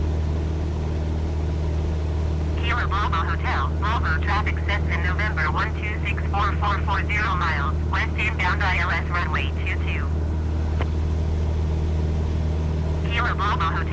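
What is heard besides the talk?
Cessna aircraft engine in flight, from Microsoft Flight Simulator 2020 video game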